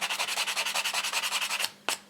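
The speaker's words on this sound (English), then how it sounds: "using this regular sanding block" A regular hardware-store sanding block rubs the sharp edges of 3D-printed stamp corners in about fifteen quick, even back-and-forth strokes. A brief scrape follows once the rhythm stops.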